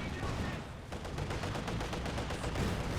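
Battle sounds in Company of Heroes 2 with mortar fire, a dense run of repeated shots and impacts under constant combat noise, moderately loud and continuous, with some voice mixed in.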